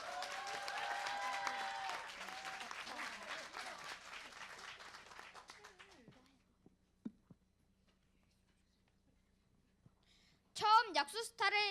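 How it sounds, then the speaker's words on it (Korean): Audience applause at an event about making school routes smoke-free, loud and dense for about six seconds before fading out, then a quiet gap, with speech returning near the end. "이쪽에서는 박수 한번 쳐줘야 되지 않겠습니까?"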